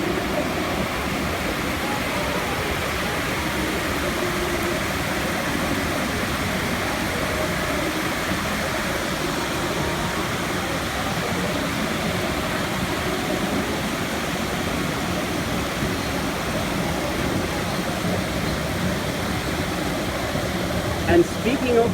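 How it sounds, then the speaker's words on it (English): Constant broad wash of cascading water from a fountain in Lingang, Shanghai, steady and fairly loud, with a faint background hum and no clear breaks. "Hello, beautiful cascading water."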